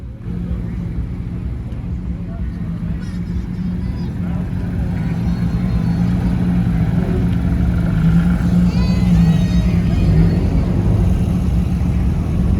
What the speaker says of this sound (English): There's a Ferrari rolling out.